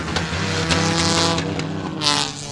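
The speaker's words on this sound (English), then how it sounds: "Sounds like fuel pickup issues for that car." Race car engine at a speedway endurance race, running rough with apparent fuel pickup trouble, loud and close with a steady low drone and harsh roughness, a brief higher surge near the end.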